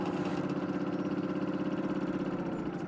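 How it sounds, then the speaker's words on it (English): Moped engine running steadily at close range, a continuous buzzing putter with even rhythmic pulsing and no talk over it. "arriving for a hot date on a moped."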